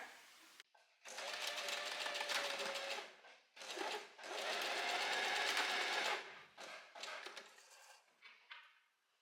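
A sewing machine stitches over a hem in short bursts, whirring loudly for a second or two and then pausing before running again, close up with no talk.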